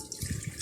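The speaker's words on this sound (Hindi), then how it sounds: "यहाँ मैंने एक प्रेशर कुकर लिया है और प्रेशर कुकर के अंदर मैं 1 गिलास पानी का ऐड करूँगी।" A glass of water pours into a pressure cooker in a home kitchen, a short splashing gush with gurgling, close and alone.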